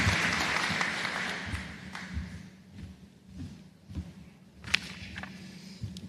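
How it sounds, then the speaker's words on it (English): An audience at a university commencement ceremony applauds. The clapping is dense at first, then thins and fades out, leaving scattered claps and a few thuds in a large room. "another round of applause for Bradley Bowen"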